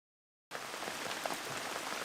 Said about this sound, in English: The next day we wake up to rain, and lots of it.